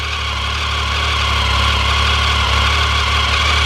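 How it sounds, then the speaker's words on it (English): A Triumph Tiger 1050 Sport motorcycle on its standard exhaust idles steadily just after starting, a close, even, throbbing engine note with faint vibration and no voices. "That's what a Triumph Tiger 1050 Sport sounds like"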